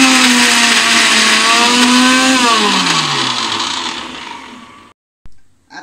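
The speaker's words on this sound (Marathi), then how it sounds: "मगाशी जे आपण भाजून घेतलं होतं ते मी मिक्सरला वाटून घेतलं आहे" A mixer grinder grinds roasted coconut with coriander and very little water, a loud steady whirring roar whose pitch sags as the load thickens, then cuts off abruptly with a short thump at the end.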